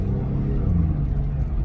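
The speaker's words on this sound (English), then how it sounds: "So as you can hear, pulls quite nice when you floor it." A Porsche 996 Carrera 2 engine at full throttle, with a loud, close, steady engine drone and rising tones throughout. The engine is said to cut out just over 3,000 rpm.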